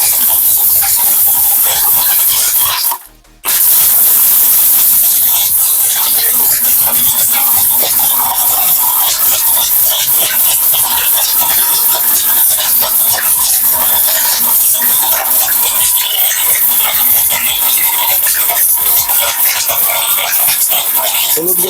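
A powerful electric blender grinds turmeric, a loud, harsh, continuous whirring roar that cuts out briefly near the start and then resumes unbroken.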